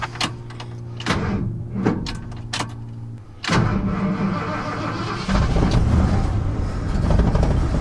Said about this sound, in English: See if it starts and drives the second time.